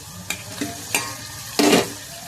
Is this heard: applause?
no